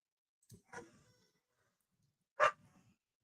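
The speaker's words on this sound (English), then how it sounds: "Somebody's here and my dogs are excited." A few sharp dog barks, two quick ones then a louder single bark after a pause, in an otherwise quiet room.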